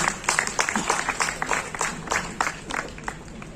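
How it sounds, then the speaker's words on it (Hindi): Lively applause with distinct, uneven claps from a modest crowd at an honoring ceremony in Nagpur, rising and dipping in bursts throughout. "एक बार जोरदार तालियां सबके लिए"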